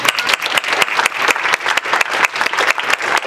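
Audience at a rescue charity ball bursts into lively applause, sharp individual claps standing out within a dense, fairly close burst that holds steady for a few seconds.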